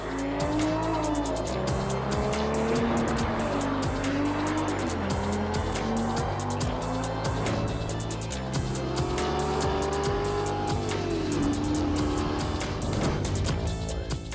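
An Aston Martin Vanquish drives hard with loud, sustained tire squeals and skids over a revving engine, rising and falling pitch sweeps repeating close by throughout.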